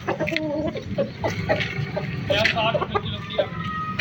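Several Aseel chickens cluck and squawk close by in short bursts, with people talking in the background.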